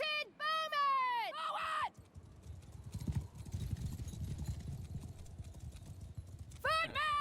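Horse archers' hooves gallop in a battle in Mount & Blade II: Bannerlord, a dense, rumbling clatter of many horses rolling on steadily in the middle, bracketed by loud shouted voices or neighs at the start and end.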